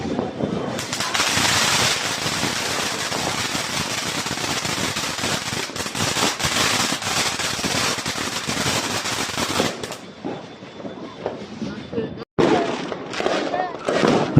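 Cheap fountain firework hissing and spraying steadily for about ten seconds during New Year celebrations, with crackling pops from other fireworks around and voices talking over it.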